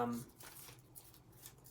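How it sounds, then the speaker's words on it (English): Tarot cards being shuffled, a faint, quick series of soft papery riffles and slides over under two seconds, quiet and close. "I'm going to shuffle these ones one more time"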